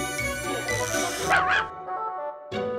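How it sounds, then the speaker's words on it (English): A puppy barks and yips in a few short, high bursts close up, with a brief whimpering cry in the middle, then a pause before one last yelp. "Puppy."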